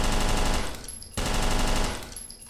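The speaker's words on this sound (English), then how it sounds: "You can hear it sounds a little bit more like a submachine gun, right?" Suppressed submachine gun firing in the video game Interstellar Marines, a rapid automatic burst that stops briefly, then resumes, loud and close with no talk.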